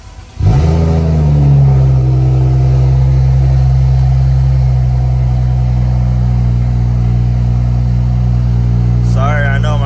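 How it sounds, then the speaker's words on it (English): A BMW F10 car engine cranks and catches, then settles into a loud, steady idle that runs without a break to the end, with a brief electronic chime near the close. "Let's start the car up"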